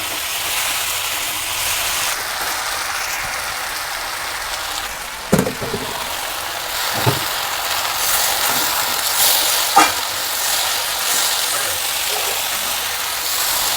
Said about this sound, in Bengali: দেখুন আমার শাকটাও ভালো কষানো হয়ে গেছে সবজির সঙ্গে